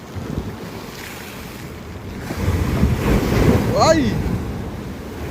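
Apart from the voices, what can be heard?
ocean waves crashing on the shore at Baler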